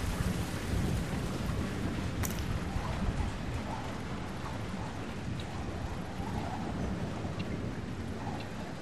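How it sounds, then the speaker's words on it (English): Thunderstorm in the Splinter Cell Chaos Theory video game: dense, loud rain hiss with low rumbling thunder throughout and a sharp crack early on, with no talking. "Thunderstorms make me nervous."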